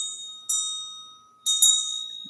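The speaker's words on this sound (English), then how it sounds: "Watch your ears. I'm going to ring my bell." A hand bell rung twice in a quiet room, each bright metallic strike ringing out and slowly decaying, with a single sustained tone lingering between the strokes.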